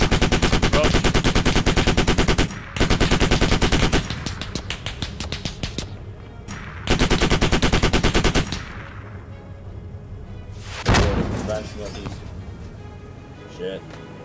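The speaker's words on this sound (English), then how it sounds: "looks like small arms coming in from the northwest" Small arms fire in the military shooter Squad, with long bursts of rapid automatic shots in several loud stretches, broken by quieter gaps and a sharp single blast near the end, as voices talk over the fighting.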